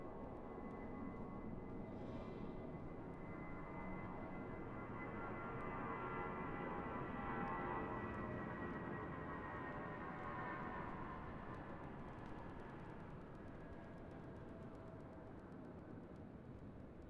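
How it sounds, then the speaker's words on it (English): Airbus A319 airliner departing Raleigh-Durham International Airport, its jet engines giving a steady, broad roar that holds for the whole stretch, distant but sustained, with no talk over it. "this is going to be a good sounding departure for this A319"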